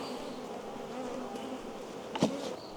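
Steady buzzing of honey bees at an apiary being moved into new 10-frame hives fills the clip, a close continuous hum with one brief louder burst near the end.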